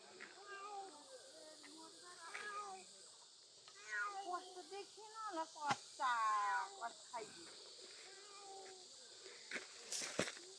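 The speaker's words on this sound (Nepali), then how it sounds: "हाम्रो बिरालो दुखी छिन्" A sad pet cat meows repeatedly, mid-distance and moderately loud, with long drawn calls and some caterwaul-like wails over a steady hissing insect-like background.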